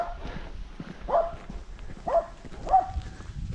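A dog barking at a mountain farm homestead in the Transylvanian hills, three short barks spaced about a second apart, moderately distant over outdoor background noise and footsteps.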